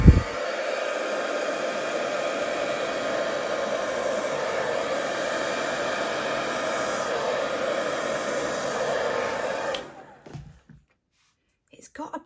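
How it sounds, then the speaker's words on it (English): A hair dryer blows steadily on wet acrylic pour paint for about ten seconds, a loud constant whoosh, then cuts off, leaving near silence with a few faint knocks. "to blow this out with my hairdryer again"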